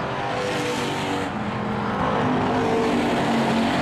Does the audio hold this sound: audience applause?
no